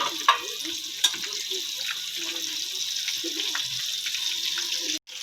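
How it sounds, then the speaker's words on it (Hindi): Zinger shawarma chicken fries in hot oil on medium heat, a steady close hiss and sizzle with a couple of sharp pops and a brief clatter near the end. "अब मैं मीडियम आंच पे इनको तकरीबन 5 से 6 मिनट फ्राई करूंगी।"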